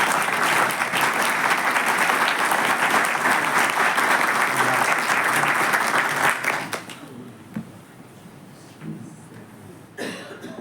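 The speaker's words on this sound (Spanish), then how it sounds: "Un aplauso para ella." An audience applauds a harpist at a book presentation, loud sustained clapping for about seven seconds before it drops away, leaving a few coughs and scattered low murmurs.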